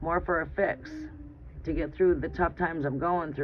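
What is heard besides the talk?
No everyday noises stand out.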